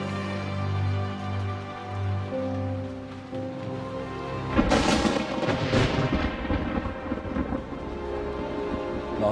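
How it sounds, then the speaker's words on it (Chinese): Thunder in a TV drama: a soft hum and musical score give way to a sudden loud crack and rolling rumble midway, fading over several seconds. "别打雷，别下雨了"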